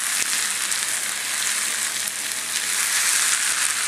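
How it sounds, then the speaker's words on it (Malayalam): Beetroot sizzles as it fries in oil in a pan for a Kerala-style mezhukkupuratti, a steady dense crackle held close and loud throughout with a couple of sharper pops. "ബീറ്റ്റൂട്ട് എണ്ണയിൽ കിടന്ന് നന്നായിട്ടൊന്ന് മുരിഞ്ഞു വരണം"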